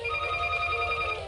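A telephone rings with a steady electronic tone that fills the whole moment, sounding fairly loud and close with no talk over it.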